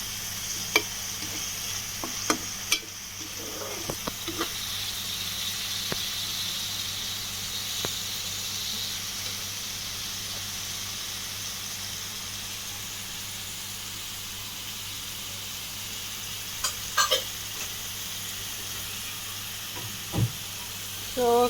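Mutton coated in masala paste fries in a pan with a steady low sizzle, broken by occasional scrapes and clinks of stirring, fairly quiet throughout with a few sharper knocks near the end.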